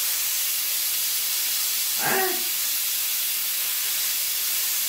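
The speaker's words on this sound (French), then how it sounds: "je laisse échapper déjà le maximum de vapeur" Steam bursts from a pressure cooker holding pot-au-feu as its valve is released, a loud, steady hiss filling the whole stretch, with a short spoken exclamation partway through.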